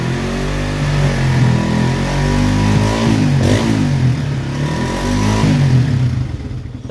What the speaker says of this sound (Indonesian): coba kita gas sampai di 5000 rpm ya.